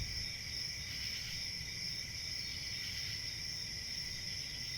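Crickets chirp in a constant high-pitched drone, faint and steady, with no voices or other clear sounds.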